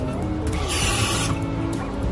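Water hits a hot pan with a loud, steady sizzling hiss that flares briefly and keeps crackling throughout.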